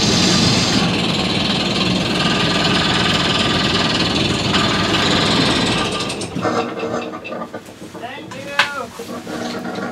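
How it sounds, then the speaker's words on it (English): A sailboat's inboard engine runs in neutral with a loud, steady mechanical rumble and clatter for about six seconds before it is shut down, leaving quieter rattles and a short whistle-like squeal. "run the engine for 30 seconds and then shut it down"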